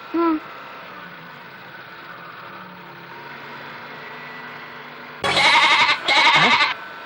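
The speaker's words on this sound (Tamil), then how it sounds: "என்னடா ஆடு கத்துற சத்தம் கேக்குது?" A steady low engine hum runs for several seconds, then a goat bleats twice, loud and drawn-out, close by.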